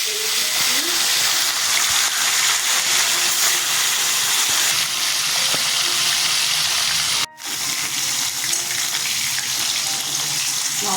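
Small sarputi fish fry in hot mustard oil in a heated kadai, giving a loud, steady broadband sizzle that runs throughout with one brief dropout near the end.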